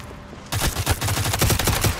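Sustained automatic gunfire from an HK G36 machine gun in the shooter game Modern Strike during a team deathmatch, a loud rapid burst of evenly spaced shots starting abruptly after a brief quiet moment.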